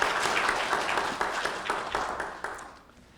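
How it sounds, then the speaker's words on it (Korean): A church congregation at a Sabbath worship service applauds to welcome a guest: dense, steady clapping from many hands filling the room, close and sustained before tapering off. "여러분 큰 박수로 환영해 주시지 않겠습니까?"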